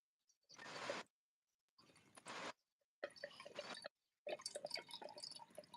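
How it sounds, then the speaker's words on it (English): Chardonnay wine poured into a glass in four short separate bursts of splashing, gurgling liquid, close and quiet, with silent gaps in between. "I done poured more, y'all."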